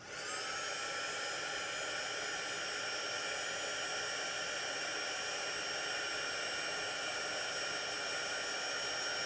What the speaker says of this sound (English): you're just going to hover the heat tool over the area until the embossing powder does its magic